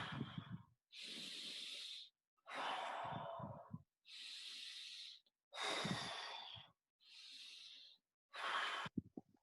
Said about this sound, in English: start that deep breathing